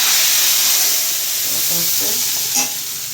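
Tempering spices crackle and sizzle loudly in hot oil for a moong dal chow chow kuzhambu, a steady frying hiss with small pops near the end.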